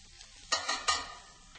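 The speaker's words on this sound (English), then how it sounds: "I'm going to add the garlic, also some shallots that I've minced" Minced garlic and shallots hit a pan of browning mushrooms, a soft sizzle with two or three quick stirring scrapes and brief louder hisses amid an otherwise quiet pan.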